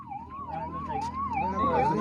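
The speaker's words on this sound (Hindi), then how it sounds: "तो एम्बुलेंस आगे थोड़ा साइड में आके रास्ता दे देंगे" A wailing ambulance siren rises and falls steadily, fairly close and loud, over a low traffic rumble on a road in Haryana, India.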